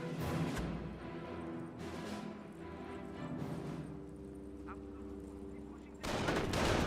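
Machine gun fire from a Company of Heroes battle, rattling in dense, sustained bursts with heavy low-end battle noise and a louder surge near the end, under a caster's excited commentary.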